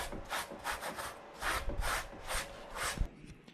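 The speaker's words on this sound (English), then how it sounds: "What we're doing here is smoothing out any imperfections with just a quick run of steel wool." Steel wool rubs quickly across the backer board of a 1988 Chevrolet Squarebody Suburban headliner, making close rhythmic scratchy back-and-forth strokes, about seven in a few seconds, with no talking.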